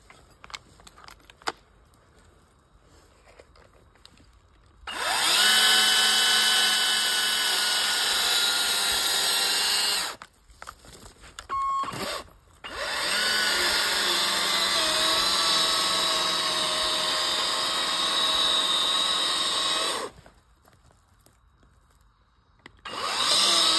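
A Kress battery chainsaw fells a large tree outdoors, two long, loud, high-pitched whining cuts separated by a short pause, with a third cut starting at the end.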